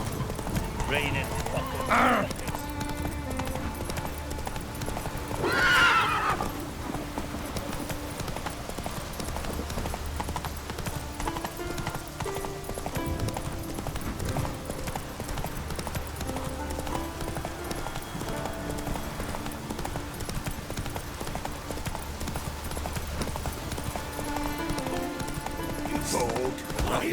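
Steady hoofbeats of a horse clip-clop throughout in The Witcher 3: Wild Hunt, with a brief whinny near the start, under a layer of game music and ambient noise.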